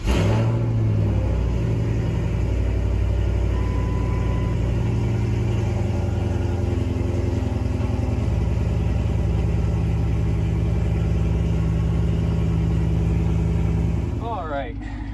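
A Crown Vic with stainless dual exhaust and an X-pipe rumbles loudly at close range, a deep steady idle with slight revving swells, and a voice talks over it before the engine noise fades at the end.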